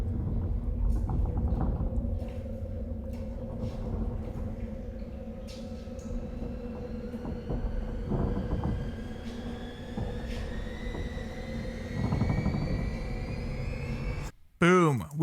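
Long synthetic riser sound effect climbing slowly in pitch over a steady low rumbling bed, faint at first and building before stopping abruptly near the end.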